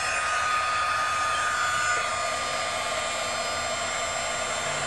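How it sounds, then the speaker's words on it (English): Heat embossing tool blowing hot air over an embossed design on a plexiglass acrylic sheet, a steady loud whooshing hum like a hair dryer running continuously throughout. "And so let's heat emboss this."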